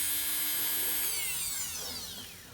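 Dremel 4000 high-performance rotary tool running at mid-range speed, a steady high whine that holds for about a second, then slides gradually as the motor note shifts, loud and close with no talking.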